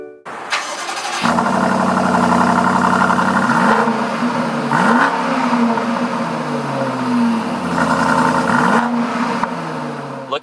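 A 2020 BMW X5 M50i engine cranks and catches, then settles into a steady idle with a few brief revs rising and falling, loud and close.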